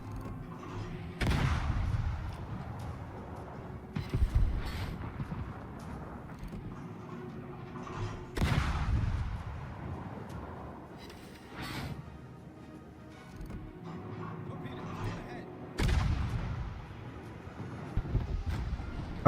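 Heavy warship guns firing in World of Warships, a series of deep booming salvos every few seconds with long rumbling tails, loud and close, layered over steady engine and ambient noise.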